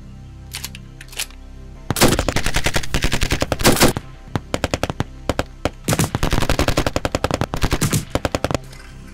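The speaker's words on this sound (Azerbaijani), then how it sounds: "Ara, deyirəm bəlkə bir iki güllə ataq." Machine-gun fire from a 2017 Azerbaijani special-forces action film: loud, rapid bursts of shots, a few short volleys early on, then long sustained strings of fire separated by brief pauses, with no talk over it.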